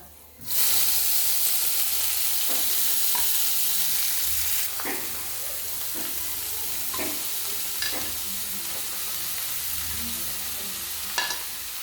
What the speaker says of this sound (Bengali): রসুনটা একটা এরকম তেলের মধ্যে ভাজা ভাজা করে নেবো